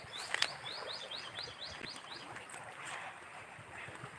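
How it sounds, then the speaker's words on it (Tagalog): Repeated quick chirps from a bird in a steady series over a breezy outdoor background with a low rumble in rural Irosin, Bicol, moderately faint. "tunog ng mga ibon. Huni ng ibon."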